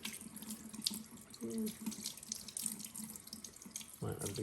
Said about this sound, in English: we didn't have all this nice running water to work with